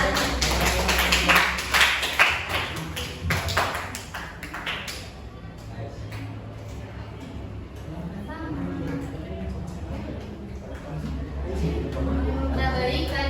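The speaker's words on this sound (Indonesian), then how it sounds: "Beri tepuk tangan dulu buat dia." Classroom applause for a student: a burst of dense clapping in the first five seconds, fading as a room murmur and a teacher's voice take over.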